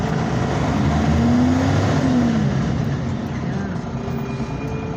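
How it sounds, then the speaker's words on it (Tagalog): Steady engine drone and rumble of cars idling and creeping in heavy, near-stationary traffic near the Moonwalk market, a continuous loud wash of motor noise with a brief horn-like tone, no clear talk. "Tulog ang mga sasakyan sa traffic."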